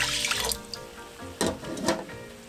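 Tap water runs and splashes into a cooking pot, two cups measured for boiling rice for bibimbap, a steady close running stream with a couple of louder gushes and drips, no talking.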